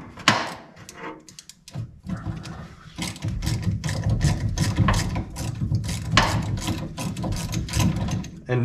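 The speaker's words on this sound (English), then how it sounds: "we need to get two bolts out of our steering column" Ratchet clicking rapidly as it works bolts out of a VW Beetle steering column coupler, close and steady with bursts of metallic clatter and no talking.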